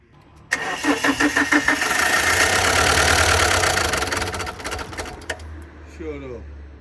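A car engine, reconnected during a repair, cranks and catches, then runs rough and loud with a rhythmic tapping and falters as if cutting out, while people talk nearby.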